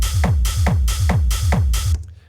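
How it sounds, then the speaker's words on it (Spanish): Thick, heavy techno hi-hat on the offbeat, five loud broadband hits evenly spaced between punchy kick-drum thumps in a driving four-on-the-floor loop that stops abruptly after about two seconds. "lo primero es tener un hi-hat en el offbeat. Tiene que ser un hi-hat como este, es decir, grueso."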